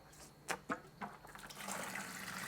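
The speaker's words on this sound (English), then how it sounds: "now it's time to get rid of as much of these organics as possible by doing a big old water change" Water being drained from a shrimp aquarium during a water change: faint splashes and gurgles at first, then a soft steady rush of flowing water, quiet and without talk.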